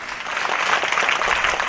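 An audience at a Tamil speech claps in a dense, steady burst of applause that holds evenly for the whole short stretch.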